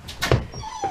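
A dog whimpers briefly nearby, a short high whine followed by a thin fading whimper.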